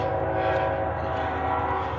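A train rumbles steadily past a cemetery with its horn sounding, a loud sustained drone that stays constant from start to finish, heard up close with no talk over it.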